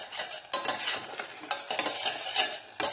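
Masala spice paste frying in oil in a home kitchen while being stirred, giving a continuous sizzle with rhythmic scraping strokes and several louder bursts, close and clear with no talk.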